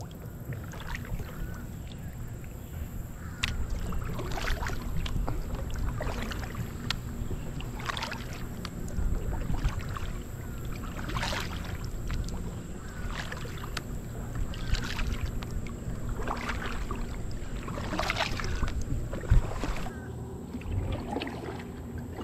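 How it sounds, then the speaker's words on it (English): A small kayak is paddled upstream on a river below Lugoff Dam after a tropical depression, with regular paddle strokes splashing about every couple of seconds over light wind and flowing water, close and without talk. "paddle up in a little small kayak today"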